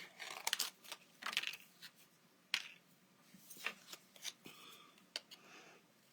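Scissors snip out a paper craft piece for a pop-up petal card, a series of soft, close, irregular cuts and paper rustles in a quiet room.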